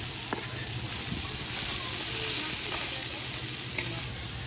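Ingredients for a Bengali fish curry with star fruit fry in hot oil, giving a loud continuous sizzle and hiss close by, with occasional scrapes and clinks as everything is stirred and turned over.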